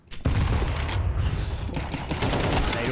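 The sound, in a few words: grenade and pistol gunfire in a Counter-Strike video game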